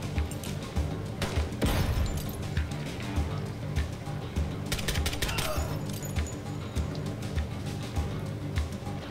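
Door Kickers 2 tactical shooter combat: a flashbang bang followed by a burst of gunfire and crashing impacts over a continuous game music bed, moderately quiet overall.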